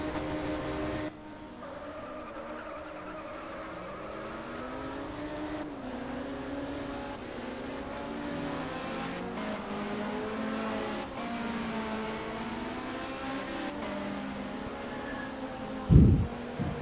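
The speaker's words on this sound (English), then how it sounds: "So the cars head out once again on their formation lap." Race cars heading out on a formation lap at Manfield make a steady engine hum with rising and falling tones that swell and overlap, ending in a brief loud thump.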